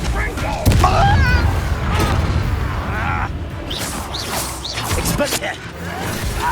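A Confringo fire spell blasts in the Hogwarts Legacy video game, a loud booming burst with whooshing fire, heard alongside shouted dialogue and combat effects.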